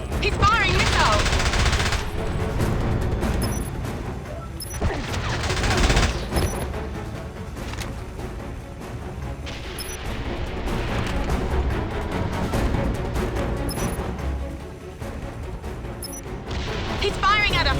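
Missiles and sustained gunfire in James Bond 007: Blood Stone: dense volleys of rapid shots and heavy impacts come in waves with a loud, busy rumble underneath, and a voice can be heard at times.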